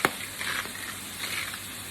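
Vegetables for fried rice frying in a pan, a quiet, soft sizzle with a brief stir or scrape at the start, heard alone.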